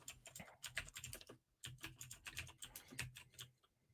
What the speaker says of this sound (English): So we're just going to hear you type.